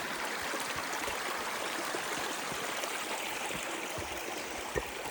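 A stream rushes steadily and close by at a rocky crossing, its broad continuous flow filling the whole moment with no voices.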